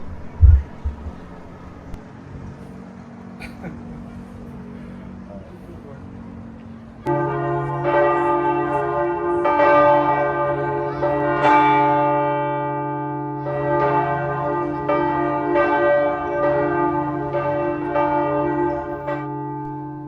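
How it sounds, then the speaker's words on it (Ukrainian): Church bells in Lisbon, Portugal ring out after a quiet stretch with a low hum, their resonant, overlapping strikes sustaining and repeating steadily. "А от колись ці дзвони були головним джерелом інформації для всього міста."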